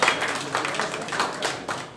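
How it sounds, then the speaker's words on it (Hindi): An audience at a New Year (Nav Samvatsar) community event in Kanpur, India claps to see off a departing guest: a fairly loud, continuous patter of hands throughout, with surges of clapping. "आइए हम लोग पुनः तालियों से उन्हें विदा करते हैं"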